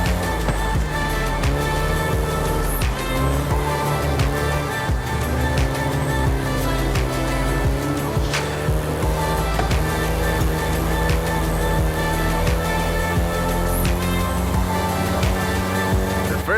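Volkswagen Golf GTI driven in Forza Horizon 5, a loud, continuous engine note rising and falling through gear changes, with occasional tire noise and no talking.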